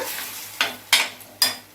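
Hot tempering poured into ridge gourd and gongura roti chutney in a pan sizzles in three sharp, loud bursts, each fading quickly, with a faint steady hum beneath.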